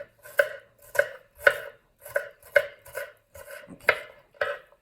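Onions minced finely with a knife on a cutting board: a steady series of about ten crisp, close knocks at roughly two per second, loud and clear with no talking.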